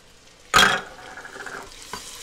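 Onions dropped into a hot pot for broccoli cheddar soup, a sudden loud hiss that settles into a steady, softer sizzle with a faint stir near the end, close up and without speech.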